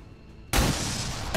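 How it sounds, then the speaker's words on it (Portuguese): A pistol shot in the XCOM 2 strategy game: one sudden, loud, broadband crack that rings out into a sustained noisy tail, with a second smaller burst near the end. "E tiro de pistola"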